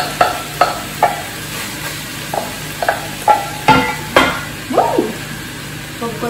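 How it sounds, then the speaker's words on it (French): Rice stirred and tossed in a hot pan for Cantonese fried rice: a run of close, sharp scraping and clanking strokes over a steady low sizzle, with no one speaking. "On rajoute le riz."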